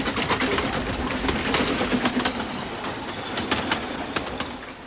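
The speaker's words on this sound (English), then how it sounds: "The twin assembly gives tremendous reserves of power which allow a double Fairlie to haul the heaviest trains" A double Fairlie steam locomotive hauls a train on the Festiniog narrow gauge line, with a steady rumble and rapid rhythmic clicking of wheels on rail, close and loud throughout, with faint bird calls behind.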